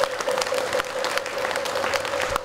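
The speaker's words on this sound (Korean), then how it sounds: "큰 박수 부탁드리겠습니다." Audience applause fills a Buddhist ceremony hall, where a Korean Taego Order head abbot inauguration service is underway; steady, dense clapping continues throughout at moderate loudness with no voices over it.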